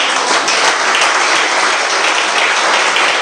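A church congregation applauds in praise of God for the children. The clapping is loud, dense and sustained, with many hands going at once for several seconds and no speech over it.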